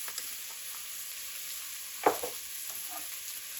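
Garlic, marjoram and sweet seasonings sizzle quietly in a pan as they're swished around, a soft steady fry with one sharper scrape of stirring near the middle.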